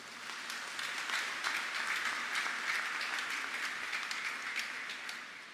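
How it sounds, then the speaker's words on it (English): A church congregation gives a sustained round of applause, dense clapping that stays at an even level throughout with no voices on top. "give thanks to the Lord by giving the Lord a big round of applause"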